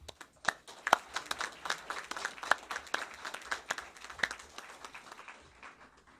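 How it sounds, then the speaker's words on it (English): A room at a board meeting breaks into applause, with many hands clapping in a dense, moderately loud burst that thins out toward the end. "I would like to ask for a round of applause for your service."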